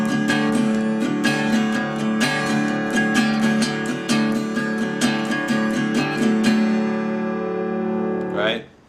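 Acoustic guitar playing the introduction to a song with steady rhythmic up and down strummed chords, close and bright, ending in a short final flourish that cuts off abruptly.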